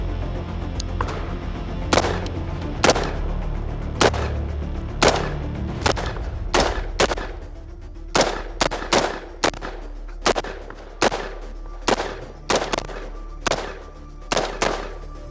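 Guns fire at a shooting range in a sharp, loud series of close shots, evenly spaced at first, then quickening into rapid pairs and clusters, each crack echoing briefly.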